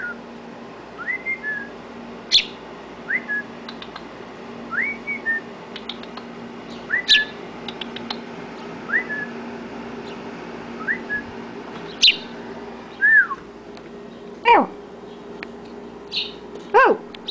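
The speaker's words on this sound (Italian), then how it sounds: "Stava proprio qui alla finestra, stava chiamando gli altri uccelli." A small bird calls repeatedly at a window, giving short rising whistled chirps at irregular intervals, fairly close and clear over a quiet indoor hum, with a few sharper higher notes from other birds mixed in.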